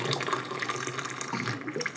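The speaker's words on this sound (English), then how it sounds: "get the hot water going" Hot water running steadily from a tap into a container, a continuous close splashing rush with no talk.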